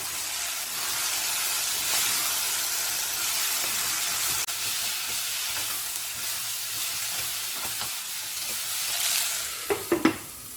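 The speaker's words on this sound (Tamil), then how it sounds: "காய் சேர்த்து வதக்கணும்" Long beans sautéing with onion in a pan for tamarind kuzhambu, a continuous bright sizzle with a few sharp stirring clinks near the end.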